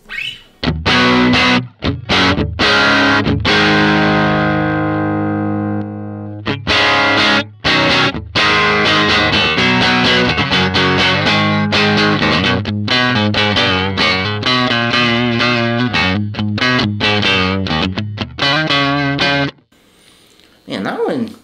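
Electric guitar played through an Axe FX III Fender Bassman amp model with a drive pedal engaged gives loud, distorted chords and sustained notes, chopped by frequent stops and restarts, close and continuous for about twenty seconds.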